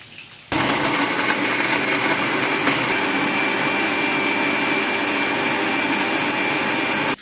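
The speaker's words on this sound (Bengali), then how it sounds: "এবার এটাকে পেস্ট করে নেবো মিক্সিতে আর একটু জল দিচ্ছি" An electric mixer grinder blending ginger and garlic with a little water into paste, a loud, steady whirring roar that switches on sharply and runs evenly to the end, heard alone.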